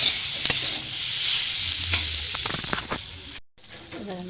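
Turmeric and six green chillies fry in a pan, a steady close sizzle with a few stirring scrapes, then a short silent gap followed by a voice talking.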